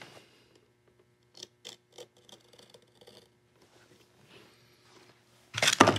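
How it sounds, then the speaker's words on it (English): An X-Acto knife cuts through leather along a marked line for a saddle bag, a few faint, separate close scratches and small slicing clicks over quiet, ending in a louder rustling scrape. "And I'm just gonna cut on my line."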